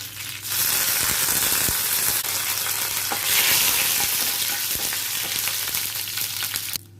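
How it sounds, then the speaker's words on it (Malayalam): Mustard seeds, curry leaves and dried red chillies fry in hot oil for a cabbage thoran. The hiss is dense and close and runs steadily for several seconds with crackling pops, then cuts off abruptly. "കടുക് പൊട്ടിക്കഴിഞ്ഞ് കറിവേപ്പിലയും ഉണക്കമുളകും ഇട്ട് കൊടുക്കുന്നുണ്ട്."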